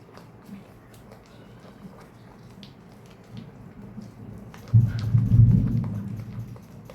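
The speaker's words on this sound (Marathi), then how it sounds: "आमच्या इथे विजांचा कडकडाट ऐकू येत असेल. पाऊस पडतोय पुण्यात." Thunder rolls in over steady rain in Pune, with a low, loud rumble building up late after a stretch of patter and distant grumbling.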